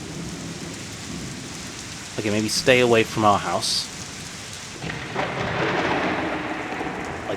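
Steady rain hisses through the rainy city in the Suikoden video game, with low thunder rumbling beneath; someone speaks briefly partway through, and the downpour continues on its own afterward.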